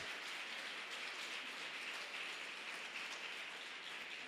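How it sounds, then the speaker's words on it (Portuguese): Steady, dense applause from a congregation at a church service, continuous clapping without breaks, heard at moderate distance with no voices over it. "Você pode aplaudir o Senhor?"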